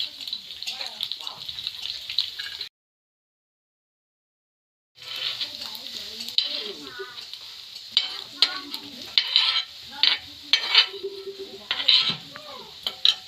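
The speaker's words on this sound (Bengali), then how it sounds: "বড় মাছগুলো খুব ভালো করে ভাজা হয়ে গেছে," Kuche eel fish fry in oil in a wok with a bright, busy sizzle, broken by a brief silent gap. Utensil scrapes and clinks follow as the pieces are turned and lifted.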